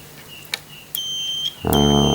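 A short electronic beep from a multimeter buzzer during repair of a Polytron LED TV that fails to start, then a few faint high tones, ending in a loud, steady buzzing tone that holds to the end.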